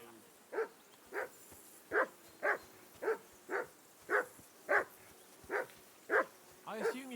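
A dog barks over and over in Kingdom Come: Deliverance 2, about ten evenly spaced barks at a steady rhythm, moderately loud against faint ambient background, ending in a quick flurry.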